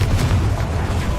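Confringo blasting spell detonating in Hogwarts Legacy, a loud, close, booming explosion with a heavy low-end rumble that fills the brief moment without pause.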